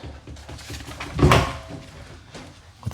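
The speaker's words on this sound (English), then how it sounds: "You got the double door closets" Double closet doors in a newly built home swing open or shut, giving a single soft thump with a brief rattle near the middle, close by, amid faint room sounds.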